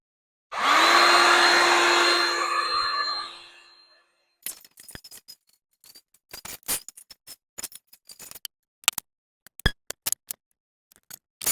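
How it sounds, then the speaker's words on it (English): A heat gun warming a guitar part for bending blows with a loud, steady whirring rush for about three seconds, then cuts off, leaving scattered sharp clicks and taps. "I'm going to heat it up with my heat gun, and we'll see if it holds the shape."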